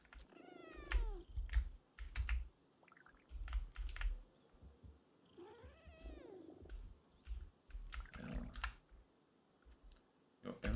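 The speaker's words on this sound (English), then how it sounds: "Every time that I hear that cat doing this like bubble sound" A cat makes repeated warbling, bubbling trills in Once Human gameplay, several short bursts spread across the stretch, mixed with keyboard typing and clicking and low thumps.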